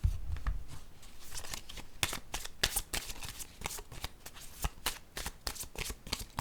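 A deck of cards being shuffled and drawn, a rapid run of crisp riffling flicks and snaps close by, broken into bursts with short pauses, no talk.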